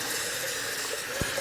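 Tap water running into a medium pot for small potatoes, a soft continuous hiss of filling water with a brief clunk near the end, fairly quiet and close.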